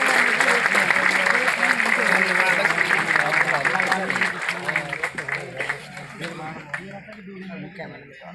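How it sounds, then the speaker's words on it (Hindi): Loud, dense applause fills a hall at a Constitution Day celebration in Delhi for a 90-year-old guest, holding steady before thinning into scattered claps and a few voices near the end. "जोरदार तालियां उनके लिए"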